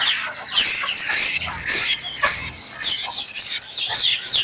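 Steady rhythmic rasping of sandpaper rubbed back and forth by hand on a wooden playground slide mould, loud and close, repeating strokes with no pauses.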